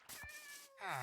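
A Minecraft cat meows in a village, a drawn-out tonal cry followed by a louder, rising second meow, close and clear with game ambience behind.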